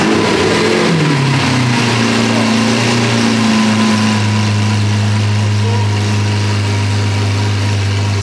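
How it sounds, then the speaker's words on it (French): Lamborghini V12 engine making its first start through a new free-flow exhaust: a loud, close cold-start roar settling into a steady, deep idle drone, with no voices over it. "Ce jeune V12 qui a été complètement libéré."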